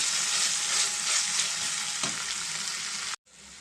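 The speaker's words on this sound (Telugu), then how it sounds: "ఇప్పుడు దీంట్లో నేను వెల్లుల్లిపాయి జీలకర్ర అల్లం గసగసాలు పేస్ట్ చేసుకున్నామండి ఇది కొంచెం పచ్చిరాసిన పోయేదాకా ఫ్రై చేసుకున్నాం" Garlic, cumin, ginger and poppy seed paste frying with onions in a pan for a mutton curry, a steady close sizzle with faint stirring scrapes, then a brief cut to quiet before the sizzle resumes.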